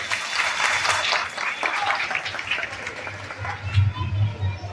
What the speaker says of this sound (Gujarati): દાતાશ્રી માટે તાળીઓનો ગડગડાટ થઈ જાય